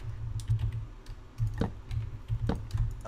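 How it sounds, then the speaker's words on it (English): Clattery keystrokes on a loud computer keyboard come in uneven bursts and single taps, close and crisp, with brief pauses between flurries and no voices. "My keyboard is super loud nowadays."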